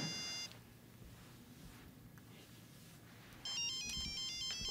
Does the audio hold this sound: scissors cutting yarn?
no